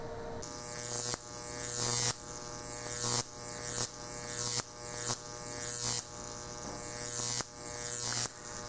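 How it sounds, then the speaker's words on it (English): High-voltage electric discharge from a 7500 volt, 30 milliamp EMP generator, a harsh crackling buzz that repeats in short bursts about once a second, each swelling in loudness before cutting off. "what you're looking at is some high voltage electric discharge, or like electromagnetic pulse"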